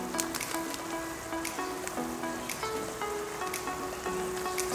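Pork blood sautéing in a pan for dinuguan, a soft continuous sizzle with scattered crackles and occasional stirring clicks, fairly quiet and close.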